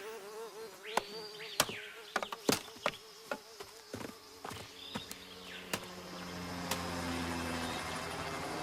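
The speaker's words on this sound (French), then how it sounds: "Ces satanés moustiques vont me rendre complètement cinglé." Pesky mosquitoes whine in thin, wavering buzzes that swoop close and fade, mixed with sharp clicks and taps, and a low rumble builds toward the end.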